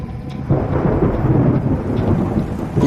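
Heavy rain pours down with a deep, continuous thunder rumble rolling loudly underneath, with no voices.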